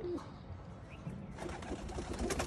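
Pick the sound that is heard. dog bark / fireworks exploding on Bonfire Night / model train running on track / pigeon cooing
pigeon cooing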